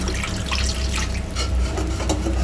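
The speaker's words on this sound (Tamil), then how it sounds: "இப்போ தண்ணி சேர்த்து நம்ம தேவையான அளவு இதை வந்து கரெக்டாக இது பண்ணி மூடி வச்சுருவோம்" Water pours into a pot of Tamil-style lentil dumpling curry (paruppu urundai kuzhambu), a steady close splashing rush that runs unbroken throughout with no talking.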